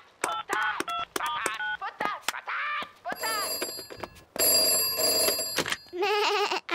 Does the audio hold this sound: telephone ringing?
yes